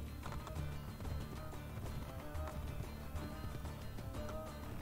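Steady clip-clop of horse hooves in the video game Assassin's Creed: Brotherhood over a dense, busy game soundscape, continuous and fairly loud throughout.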